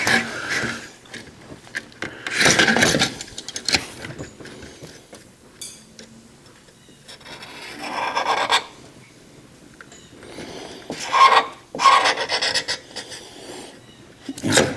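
Material being trimmed off a custom grille mockup: intermittent close rasping, scraping bursts in short clusters separated by quieter pauses with faint handling noise.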